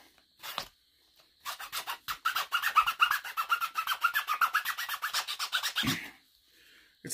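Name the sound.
round rasp filing wood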